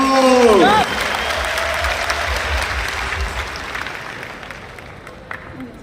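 Loud applause from a crowd at an RCM business gathering, breaking out under a brief amplified voice and feedback squeal at the start, then a broad sustained clapping that gradually fades, with a voice briefly heard near the end.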